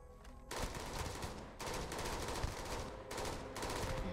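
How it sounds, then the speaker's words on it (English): Rapid automatic gunfire from a physical damage weapon in the video game Starfield, loud sustained bursts broken by two short pauses, with dense crackling shots throughout. "Switch to my physical damage weapon."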